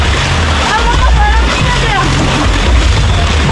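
Water sloshing and splashing as people wade through a waterpark pool toward the wave pool, a steady close churn of disturbed water with voices over it.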